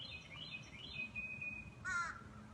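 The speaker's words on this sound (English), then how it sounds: "including the birds singing in the trees above me" Birds call from the trees overhead during an outdoor live broadcast, a couple of thin, high tonal notes and a brief harsher crow-like caw near the end, faint over a low steady background rumble.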